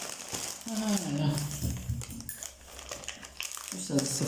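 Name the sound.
crinkling festive wrapping paper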